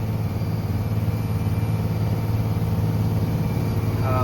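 A truck engine labours steadily in first gear up a steep ghat road, a continuous low droning growl holding constant and loud throughout with no speech.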